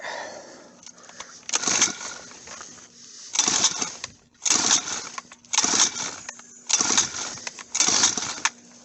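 An untuned turbo-build engine is cranked on choke in about six short, loud bursts separated by brief pauses, sputtering without settling into a steady run.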